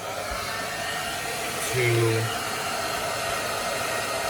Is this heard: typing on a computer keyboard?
no